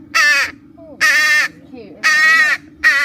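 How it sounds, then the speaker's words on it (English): A pet bird at a van-life bushcraft camp gives four loud, harsh, crow-like squawks in an irregular rhythm, each about half a second long, close by, with a brief spoken word between calls. "He only really squawks when there's people"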